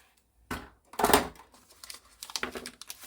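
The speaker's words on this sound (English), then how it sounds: "I'm going to use scissors." Crinkly chocolate bar wrapper sounds with a few quick scissor snips and rustles, close up and brief, separated by short pauses.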